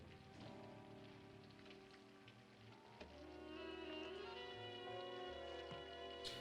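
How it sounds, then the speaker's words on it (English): Steady rain falls throughout a scene in a Los Angeles–set TV show, a dense, even patter on surfaces that swells slightly louder midway, with tonal background music and effects layered above it. "Why is it raining?"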